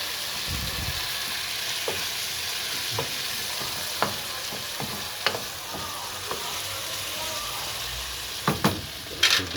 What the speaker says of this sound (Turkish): İçerisine kendi yaptığım domates sosundan şöyle biraz ilave ediyorum. Karıştırıyorum.